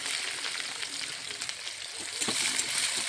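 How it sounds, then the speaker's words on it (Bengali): Capsicum frying in a pan, a steady close hiss and crackle of sizzling oil with faint stirring, continuous throughout with no speech. "ক্যাপসিকামগুলো ভেজে নিচ্ছি"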